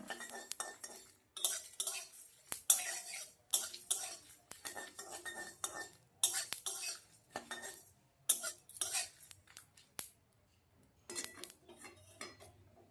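Spice masala for plum pickle being stirred and dry-fried in a pan on low heat, with irregular bursts of a spoon scraping and clinking against metal, close and separated by short pauses.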